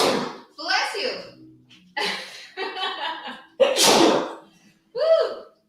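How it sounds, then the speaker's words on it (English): A single sharp sneeze bursts out near the middle, close and loud, amid bursts of talking and a brief exclamation around it. "I sneezed off camera."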